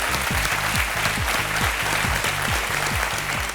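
A studio audience at the KBC game show applauds steadily and fairly loudly throughout, a dense wash of clapping with a faint rhythmic beat of music underneath.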